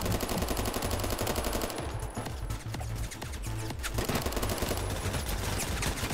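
Sustained rapid automatic gunfire in the shooter game Phantom Forces, loud and continuous bursts with a brief lull in the middle before firing resumes.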